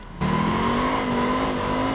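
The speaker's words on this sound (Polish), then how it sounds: "Ten dźwięk silnika jest trochę inny i chyba to jeździ, to jeździ dużo szybciej." Car engine in a game revving up suddenly and holding a rising, steady whine, loud and close with no voices.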